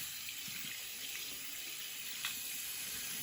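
Water runs steadily from a faucet into a sink during hand washing before catheter care, a continuous even hiss heard alone and fairly quiet.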